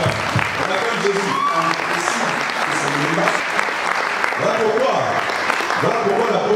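A church congregation applauding and cheering in acclamation of Jesus, with sustained loud clapping and voices shouting throughout.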